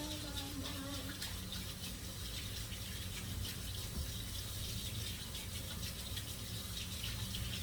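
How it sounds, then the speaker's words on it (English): Tap water runs steadily at a sink while hands are washed, a continuous broadband rush close by with faint voices in the background. "Let's go wash our hands."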